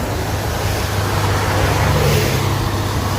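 A FM World WD504K tractor, a 2024 model with 105 hours, is being driven as a loud, continuous engine drone with road noise that holds steady throughout.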